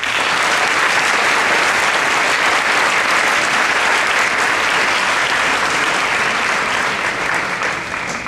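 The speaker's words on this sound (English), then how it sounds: "Let us give them a round of applause first." A large audience claps steadily and loudly for teachers at a mass prayer gathering ahead of board exams in Chennai, a dense, sustained wash of applause with no voices standing out.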